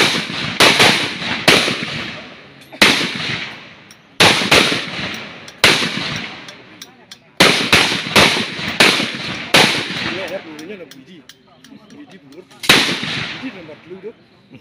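Sharp gunshots crack out one by one during instructor firearms shooting practice, loud and close, spaced irregularly with some quick pairs, each followed by a short ringing decay, while people talk faintly between the shots.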